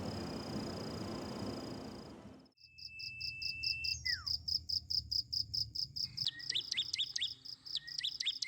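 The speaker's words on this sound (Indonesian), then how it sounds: "Suara jangkrik berganti dengan suara burung." Dense cricket chirping gives way to birds calling at dawn at a solo campsite at the foot of Mount Merapi, with rhythmic repeated bird whistles and chirps close by over a quiet background.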